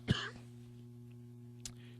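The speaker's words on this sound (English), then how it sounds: "Excuse me for that cough that came back again last night for some reason." A single sharp cough or throat-clear comes up close over a steady low electrical hum, followed by a fainter second one a moment later.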